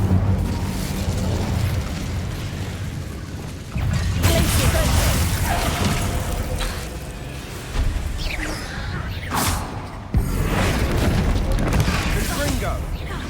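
Incendio fire spells cast in Hogwarts Legacy, bursts of roaring flame and magical whooshes recurring several times over a busy game soundscape, with a voice speaking at moments.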